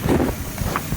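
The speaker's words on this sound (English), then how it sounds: "Now I'm just getting tires aired up" A short, steady burst of an air hose hissing while inflating a car's low tires, loud and close, with no voices.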